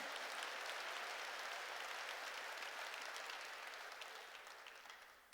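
A church congregation applauds together, a steady wash of clapping that holds for several seconds and then starts to thin out toward the end, with no one talking over it.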